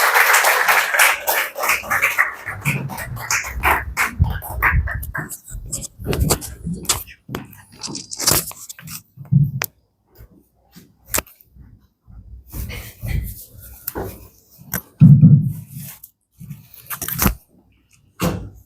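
Audience applause at a lecture welcoming speaker Ami Ganatra: dense, close clapping at first that thins into scattered, sharp individual claps and fades toward the end.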